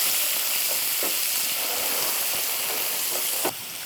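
Four medium onions frying in a pan with salt about to be added, a steady close sizzle and hiss with soft stirring scrapes through most of it, ending in a brief knock.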